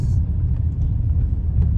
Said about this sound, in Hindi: You can see the traffic.